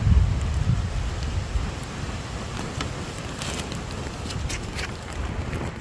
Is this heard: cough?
no